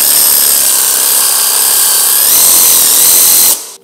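A handheld power saw runs loud and close at a steady, high-pitched whine that rises slightly midway, then cuts off abruptly just before the end, with no talking.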